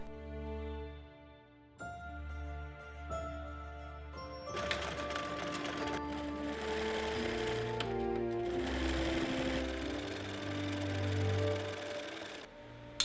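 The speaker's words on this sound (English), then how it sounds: "And now to sew the panels together." A sewing machine stitching skirt panels together for a handwoven costume dress, starting with short halting bursts and then running in a long steady whir, close and clear with no talking.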